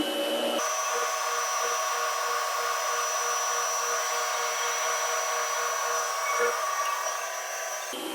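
A drill boring into a bowling ball with a 31/32-inch bit whirs with a steady high whine, starting abruptly and running for several seconds before cutting out near the end.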